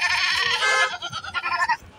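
Goats bleat loudly and close by at the Kalamna goat market in Nagpur, India, several overlapping calls over low market murmur.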